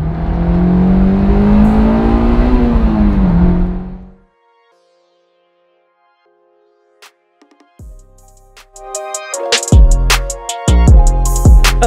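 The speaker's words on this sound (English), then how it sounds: "This car screams at you." A Honda S2000 engine roars loudly and climbs in pitch, then cuts off into near silence before firing up again with sharp, rising revs.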